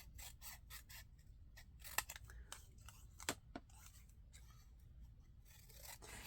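Scissors trim a slightly ripped paper piece while a vintage envelope is being made, giving a few quiet, crisp snips and light scraping against a soft background hiss.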